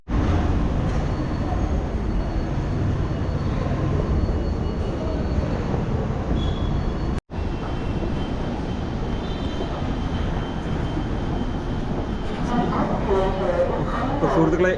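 Metro train rumbling at a station, a continuous loud roar of wheels and motor that drops out for an instant midway and then resumes, with faint squeals near the end.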